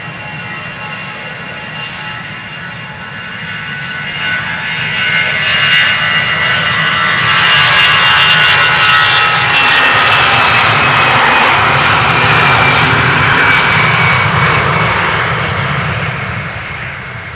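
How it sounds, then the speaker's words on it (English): A Vueling Airbus A320 jet takes off from Amsterdam Schiphol, its engine roar building to a loud sustained peak and then easing off as it passes, with broad whooshing jet noise throughout. "Vueling A320 outbound Lisbon, Portugal."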